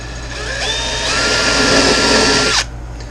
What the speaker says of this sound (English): I'm just going to drill right through here.